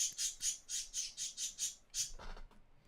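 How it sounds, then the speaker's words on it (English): Pet birds squawk in a quick series of about nine shrill, evenly spaced calls, fairly faint and somewhat distant, followed by a brief soft rustle and then quiet. "if you guys hear some like birds in the background"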